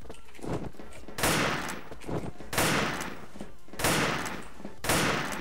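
Rifle shots from an enemy player in a shooter video game, heard as four sharp, fairly quiet cracks spaced about a second apart. Each shot is followed by a short decaying tail.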